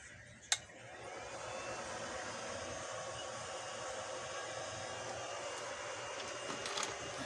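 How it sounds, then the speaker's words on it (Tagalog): An electric fan powered by a large battery whirs with a steady, even hum after a sharp click at switch-on, holding a constant airy drone throughout. "Ngayon tingnan natin kung aandar yung electric fan gamit itong malaking baterya."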